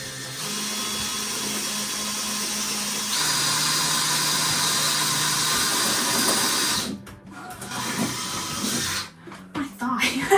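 A power drill whirs steadily for about seven seconds as it bores holes into an interior wall during a room makeover, its pitch and loudness rising partway through, then stops with scattered clatter and handling noise.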